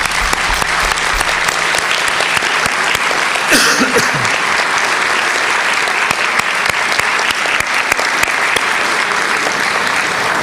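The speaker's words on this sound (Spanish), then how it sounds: "Un aplauso para todos los papás" A church congregation applauds the fathers, loud sustained clapping filling the room, with a brief voice or tone cutting through near the middle.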